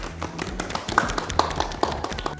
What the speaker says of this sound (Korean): 우리 출연자분들에게도 감사의 박수 보냅니다